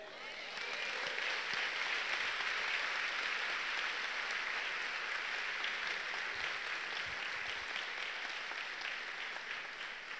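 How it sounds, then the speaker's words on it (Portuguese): An audience at a church sermon breaks into sustained applause, a dense, even wash of clapping that lasts about ten seconds. "Dê um aplauso a ele."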